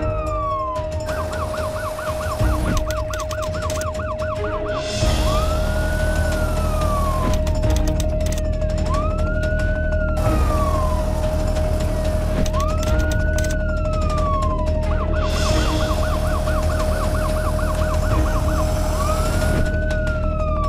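Sirens from the chief minister's convoy, with police escort vehicles, a commando striker, a fire force vehicle and an ambulance, wail and yelp loudly and continuously, several overlapping tones rising and falling as traffic rumbles beneath.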